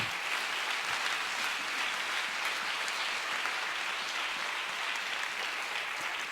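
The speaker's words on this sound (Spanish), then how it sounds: "Dele fuerte el aplauso a Cristo" A church congregation applauds during a worship service, continuous, dense clapping from a large crowd that holds steady and fairly distant throughout.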